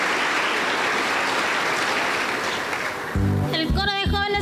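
Loud sustained applause from a church congregation, then it fades as a youth choir begins singing together.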